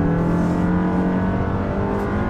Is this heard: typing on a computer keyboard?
no